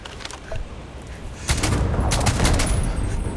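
Gunfire in the video game Starfield, a continuous rattling fusillade that grows louder and denser halfway through, with scattered distant shots layered over a steady background roar.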